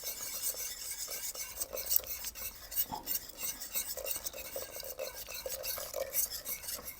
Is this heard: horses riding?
no